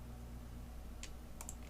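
A few faint, crisp computer keyboard clicks, including the Delete key while editing video in Premiere, tap out over a steady low electrical hum, sparse and close, with no talking.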